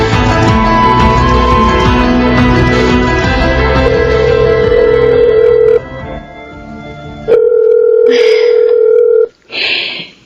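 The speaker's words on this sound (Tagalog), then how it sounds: "Sana sagutin na ni Jeric tong tawag ko." Telephone ringback tones on an outgoing call in a radio drama, sounding as a steady loud tone over background music, then a couple of shorter bursts near the end, with no talking.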